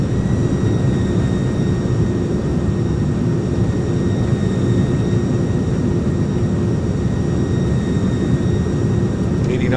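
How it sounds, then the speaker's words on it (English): Jet engines of an iniBuilds Airbus A300 in a flight simulator, thrust reversers deployed during the landing rollout, give a loud, steady broadband roar with faint high tones that holds unbroken across the whole stretch. "Beauty, nose down gently, reversers are out"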